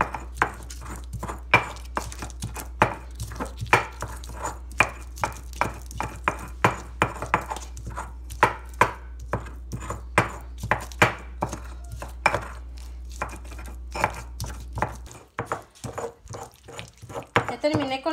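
Onion being ground for salsa in a stone molcajete, a long run of quick, close, regular knocks and grinding strokes of the pestle against stone, with a faint steady hum underneath.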